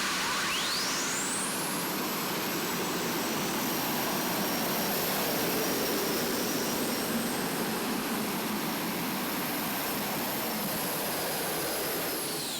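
A turbine-powered pulling tractor at the National Tractor Pulling Championships, a loud, continuous jet-like roar with a high rising whine that sweeps up early and holds steady for the full pull.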